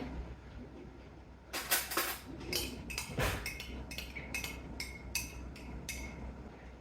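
Metal spoon scooping maple syrup from a jar, a run of quiet, close clinks and taps of metal on glass in irregular rhythm.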